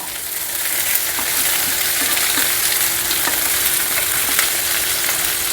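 Ivy gourd sizzles and crackles steadily in a hot pan, a continuous bright frying hiss with small pops throughout.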